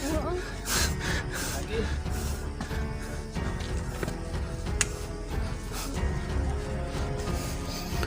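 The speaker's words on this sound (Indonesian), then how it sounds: "udah habis napas nih" A beginner hiker on the Gede Pangrango mountain trail breathes in heavy, rapid pants and gasps, close to the mic, over background chatter and footsteps.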